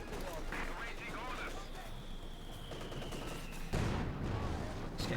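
Mortar and gunfire in Company of Heroes 2 as a unit is pinned by a mortar emplacement, a busy wash of distant rattling shots and thuds under a steady battle bed, with a heavier impact late.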